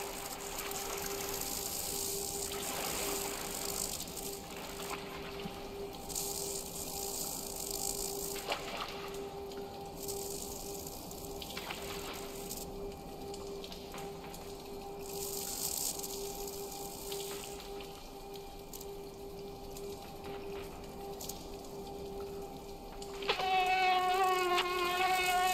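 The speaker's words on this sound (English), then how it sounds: "because it's apparently a wasp." A wasp buzzes in the Limbo video game as a continuous close drone that stays steady throughout, with a higher whining tone joining in near the end.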